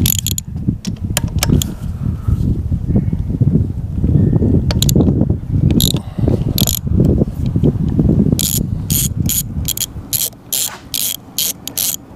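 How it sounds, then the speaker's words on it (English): Wobble socket on a ratchet used on a 1988 Evinrude 200hp V6 outboard motor, heard as close mechanical clicking and turning with quick ratchet clicks near the end. "This is one of these wobble sockets."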